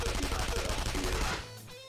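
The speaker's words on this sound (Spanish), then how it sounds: "¿Disparos?" Rapid bursts of gunfire ring out during a battle in the video game Persona 5 Royal, loud and continuous for about a second and a half before cutting off.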